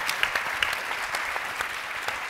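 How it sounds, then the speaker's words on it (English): Audience applause for a conference panel, a dense even patter of many hands clapping that continues without pause for a couple of seconds. "I'm going to ask you for one more round of applause for a fantastic panel"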